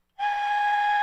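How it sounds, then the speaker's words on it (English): An Aztec death whistle blown in one sustained, piercing shriek that starts abruptly and holds at full strength, loud and close, with no talking over it. "No, we're not doing the Aztec death whistle"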